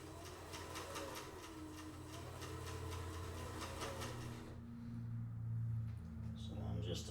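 Cylinder arm sewing machine stitching the gusset of a soft-sided leather briefcase, a quiet, rapid, even mechanical chatter of needle strokes, pausing and resuming with a low motor hum.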